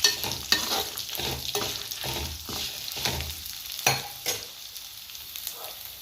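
Ingredients for a curry leaf chutney are sautéed in a pan, with a spatula scraping in a steady rhythm over a close sizzle. The stirring slows and the sound fades toward the end.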